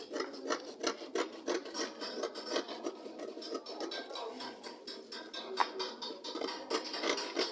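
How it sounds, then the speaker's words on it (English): Scissors cut fabric for a children's top in a steady series of close, soft rasping snips at a quiet level. "Cut it straight like this."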